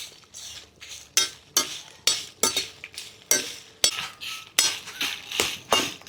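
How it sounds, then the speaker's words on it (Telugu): Dry red chillies roast in a pan for a spiced chutney powder, with regular scraping and clinking strokes of a utensil against the pan and a faint sizzle, close up, with no voices. "ఎండుమిరకాయలు మాడకుండా చక్కగా వేయించుకోవాలండి."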